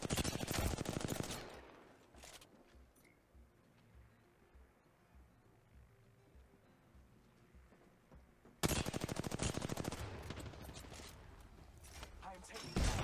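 Loud sustained automatic gunfire in the Apex Legends video game, an opening burst of about two seconds, then a quieter lull of low ambience and then another long, intense barrage.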